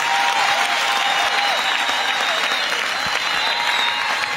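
Church congregation applause, dense and sustained, with a faint tone or voice held above the clapping throughout.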